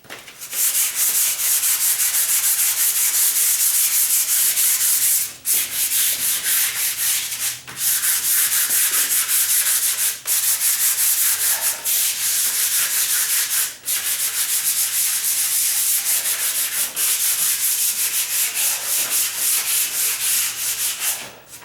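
Sanding of a painted door by hand, continuous loud rasping strokes with brief pauses every few seconds as the sander is repositioned. The scraping stays close and steady with no talking.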